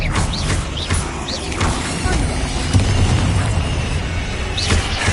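Blasting-spell explosions and magical combat in Hogwarts Legacy, with booming impacts and crashes over a busy battle mix with faint whooshes, loud and continuous.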